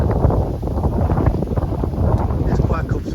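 Wind rushing across the microphone aboard a sailboat in a breeze of about 8 to 10 knots, a loud low buffeting roar that gusts and swells throughout, with a voice speaking over it.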